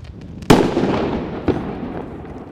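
Two sharp New Year's Eve firework bangs in daytime, about a second apart, each followed by crackling and a fading rumble.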